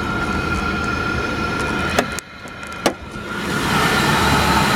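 A car's engine idles steadily and smoothly with the air conditioning running, a constant low hum broken by two brief sharp clicks partway through.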